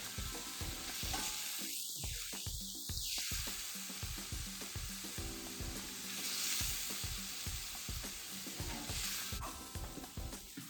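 Seafood gumbo with freshly added scallops simmers and bubbles in a pot, a steady close sizzle with regular soft stirring scrapes throughout and no talk.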